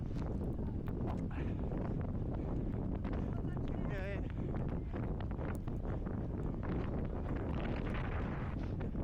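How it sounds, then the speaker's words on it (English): Strong gusts of wind buffet the microphone during a 10K race along a seafront promenade in awful weather, a continuous loud roar with surging swells throughout. "And you can really hear that wind now gusting"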